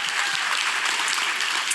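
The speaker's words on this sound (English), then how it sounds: "We can clap for that." Church congregation applauding together, a dense steady wash of many hands clapping close and loud throughout, with no talking over it.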